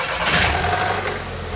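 MK5 Golf GTI engine idling as it warms up after sitting unused, a steady close rumble with a broad hiss and low droning tones.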